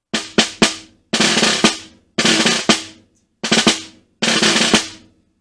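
A solo snare drum plays Portraits in Rhythm Etude 9 slowly, with crisp, close strokes in short grouped bursts and brief buzzed rolls, separated by clear gaps of silence.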